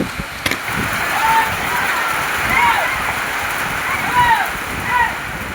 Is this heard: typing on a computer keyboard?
no